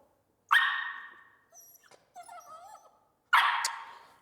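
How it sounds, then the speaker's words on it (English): A puppy gives two soft, breathy barks with quiet whimpering yips between them, close by and alone with no talk. "she opened her mouth and kind of barked"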